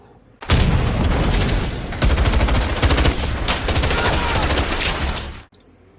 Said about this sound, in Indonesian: Terjadilah baku tembak yang menewaskan banyak security Vertigo.